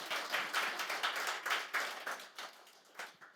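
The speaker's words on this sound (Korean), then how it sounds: "박수 한번 쳐주세요" A church congregation at a Friday prayer meeting claps for a missionary's supporter, a brisk crowd of hands in a steady, fairly loud patter that gradually thins out toward the end.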